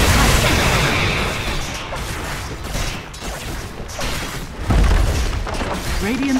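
A barracks structure collapses in a Dota 2 match with a heavy booming blast, one loud low thump rising midway over dense ongoing battle noise, with an announcer-style voice heard.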